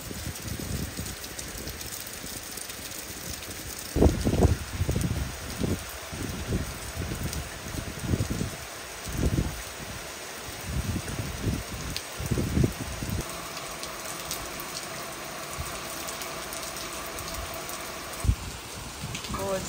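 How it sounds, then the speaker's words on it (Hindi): Heavy rain falls on fields in a steady hiss, close and continuous, while a person speaks intermittently over it. "तो बहुत ज़्यादा बारिश ऑलरेडी स्टार्ट हो गई है, खेतों में बहुत ज़्यादा पानी आ चुका है।"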